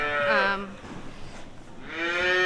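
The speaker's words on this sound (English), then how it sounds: "he probably rears somewhere in around about 500 calves every year" Calves bawl on a busy calf-rearing farm that raises around 500 calves a year: two loud, close moos, one at the start and another at the end, with a brief lull of barn noise between them.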